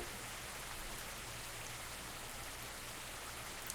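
Steady light rainfall with a soft hiss and low rumble of cars passing nearby in a rainy city setting from the game Coffee Talk, continuous and even throughout with a faint knock at the very end.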